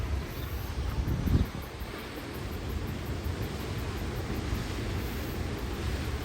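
Maruai Falls, a waterfall in New Zealand, gives a steady broadband rush of falling water that fills the scene evenly, with a brief louder swell early on and no talking.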